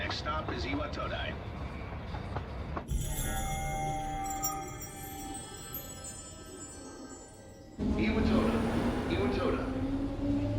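Steady rumbling train running in Persona 3 Reload, near Iwatodai station on a line bound for Tatsumi Port Island, with a bright ringing metallic stretch in the middle and a rising whine near the end, under intermittent talk.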